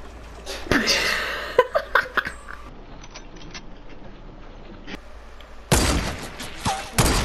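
Video game gunfire comes as sharp, loud bursts near the start and again later, with a person speaking and laughing between the shots.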